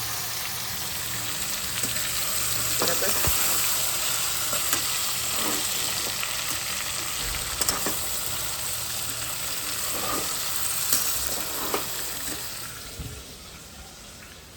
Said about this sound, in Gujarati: તો ભરેલા રીંગણા બટેકાને વઘારી નાખ્યા છે.